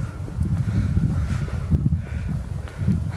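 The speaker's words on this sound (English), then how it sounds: "It's actually windy again." Wind gusts outdoors and buffets the microphone with a constant low rumble that swells and eases, loud and close, with no voices heard.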